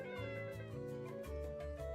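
A cat in the Chef Life video game meows in a quick string of short, tonal mews, fairly close and alone with no talking.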